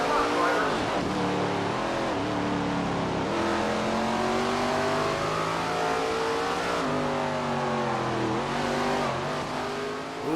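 Race car engines roar continuously in the SRX racing video game at Slinger Speedway, a short oval, with rising and falling revs and pitch sweeps as cars run in a pack, loud and steady throughout, with a commentator talking over them.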